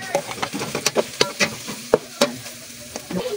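Shredded boiled chicken goes into a pan, with a close sizzle and repeated sharp utensil scrapes and taps in an irregular rhythm as it is stirred.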